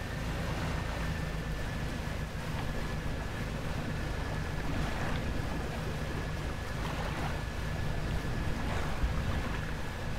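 Rough ocean waves wash steadily around a fishing boat in the video game Dredge, a constant rolling surge with wind and a faint sustained tone, no voices.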